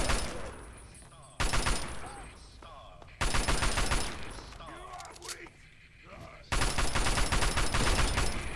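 An assault rifle fires in the video game Fallout 3. Dense automatic volleys come in loud bursts mixed with game effects, and the noise level rises and falls between the bursts.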